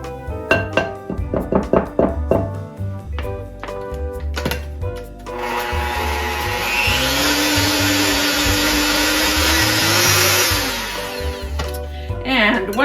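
A hand mixer creams cookie dough ingredients for caramel corn cookies. Clinks and thunks of the bowl come first, then the motor whirs steadily and loudly for several seconds, its pitch rising slightly.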